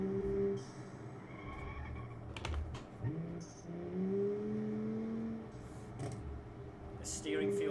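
A car's engine hums and rises in pitch as it drives in the Automation car-building video game, with the engine tone swelling and falling under someone talking, plus scattered clicks.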